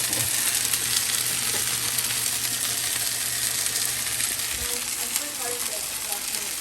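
Onions fry in a pan in a home kitchen, giving a steady, loud, dense sizzle that runs unbroken throughout with a few faint clinks and stirring sounds.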